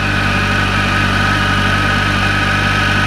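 A Kawasaki ZX14 (ZZR1400) motorcycle engine idles steadily and loudly up close, its running note carrying a constant rough, knocking undertone throughout from a timing chain tensioner problem.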